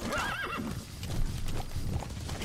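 A horse in the Metal Gear Solid 5 video game whinnies shrilly at the start while hooves clip-clop steadily at a gallop throughout, close and moderately loud with no talking.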